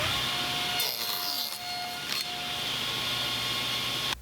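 A Klingspor combination saw blade cuts through a Luma aluminum-plastic board, a plastic core sheathed in thin aluminum, giving a loud, close, harsh shriek for about a second and a half with a shorter burst after, over steady motor noise.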